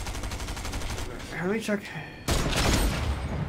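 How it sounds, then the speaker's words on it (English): Rapid gunfire bursts from a prime shotgun in the Fortnite video game, loud and close, cut in sharply near the end of the clip, with a player talking over the shots. "175 for the headshot of the prime shotgun"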